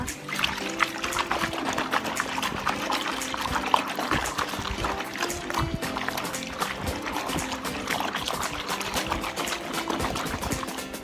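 Liquid laundry whitening solution being stirred in a basin of water, a steady sloshing and trickling churn that runs loud and close for the whole stretch, with no talking.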